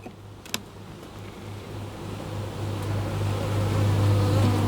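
A close, steady droning buzz of many honey bees on a hive frame, growing slightly louder and denser over time, with a brief click early on and no talking.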